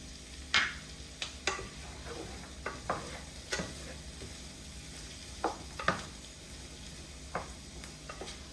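Sage leaves and red pepper sizzling in a pan for orecchiette with cauliflower and bacon, a low steady fry under several sharp spoon scrapes and stirring knocks, no talking.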